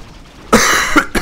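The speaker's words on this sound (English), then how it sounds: "Sorry for the coughing, guys." A man gives a few harsh, close coughs during a Warcraft 3 Reforged game: one long hacking burst followed by two shorter ones, with nothing else around them.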